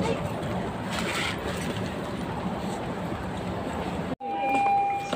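Steady broadband rumble of a moving train in Japan heard from inside the carriage, continuous and fairly loud, with a brief dropout near the end before the noise resumes.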